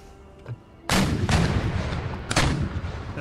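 Naval cannons fire in an Empire: Total War sea battle: two heavy, close booms land about a second and a half apart, each with a rumbling tail, after a quieter thud and a low background.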